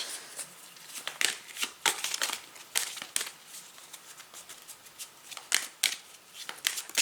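Oversized oracle cards shuffled by hand in repeated quick riffling bursts, close and crisp, with short pauses between the flurries.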